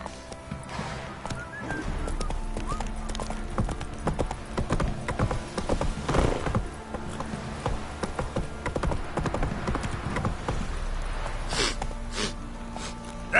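Roach, a horse in a video game, clip-clops along with steady hoofbeats, closely miked, with a snort and a brief whinny mixed in.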